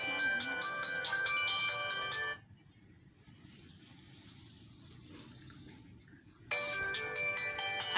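A mobile phone ringtone rings loudly in two bursts, a melodic tone pattern at the start and again at the end, with a quiet gap between where faint background noise continues.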